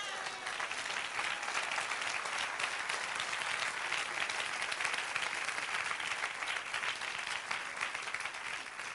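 A church congregation bursts into sustained applause, dense and even clapping from a large crowd lasting the full nine seconds at steady loudness, with no clear speech over it.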